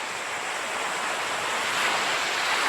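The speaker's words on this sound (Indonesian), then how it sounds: "Ini saya sedang berada di Pantai Coro Tulungagung" Surf washing ashore on a white-sand beach at Pantai Coro, Tulungagung, in mid-afternoon, a continuous broad wash of breaking waves that swells slightly louder toward the end, with some wind rumble and no voices.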